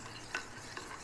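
Ingredients being stirred and melted in a pan, with faint, soft scraping strokes and a gentle sizzle, close but quiet, with no speech.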